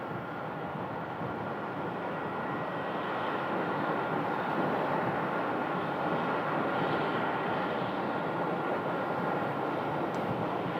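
Airliner arriving on runway 8 at Phoenix Sky Harbor, a broad, steady roar of jet engines heard from a distance that swells slightly midway and holds through the end.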